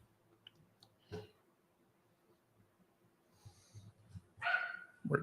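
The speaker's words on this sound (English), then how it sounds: "Our dogs are barking now." Dogs at home bark in a few scattered bursts against a quiet room, with a louder cluster of barks near the end and faint rustling between.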